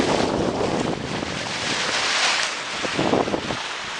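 Sailboat Green Rebel under way at sea in a light breeze, with steady wind rushing across the microphone and water washing along the hull, no voices.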